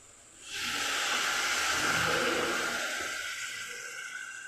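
Water splashed into a hot pan of pumpkin for kumror dhoka erupts into a loud, sustained hiss of steam that starts abruptly and holds steady, fading only slightly toward the end.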